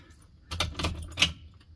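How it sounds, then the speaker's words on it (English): Keys for a 1973 Ford Bronco Ranger jangle in a few close, bright metallic bursts around the middle, just before a cold start, with no talk over them. "Got the cool keys here."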